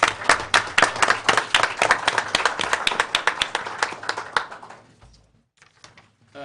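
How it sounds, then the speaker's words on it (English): A room of attendees at a school board meeting gives a round of applause: a few seconds of brisk, moderately loud clapping that thins out and stops, leaving near silence with a faint murmur at the end. "applause"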